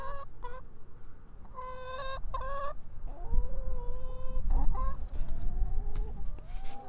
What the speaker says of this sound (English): Those are chicky wickies.